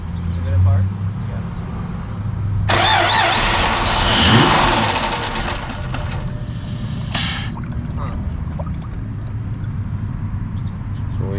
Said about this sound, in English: There's some valve train noise.